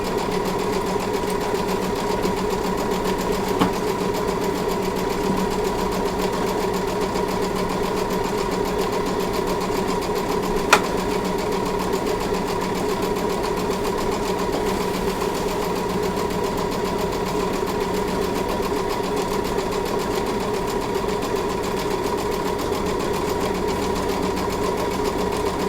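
A sewing machine runs steadily while stitching a pillowcase seam over a thick hump where cuff, body and accent piece meet, giving a constant close mechanical whir with faint clicks, no talk.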